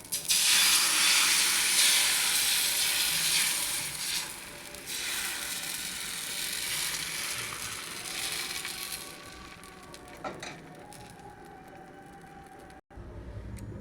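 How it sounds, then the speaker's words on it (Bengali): Rice-flour sorachakli pitha batter poured onto a hot, oil-brushed tawa gives a loud, steady sizzling hiss that slowly softens over several seconds, ending with a brief soft knock. "তাওয়াটা আমার গরম হয়ে গেছে তেল দিয়ে ভালো করে ব্রাশ করে নিয়েছি এখন আমি ব্যাটারটা ঢেলে দিচ্ছি"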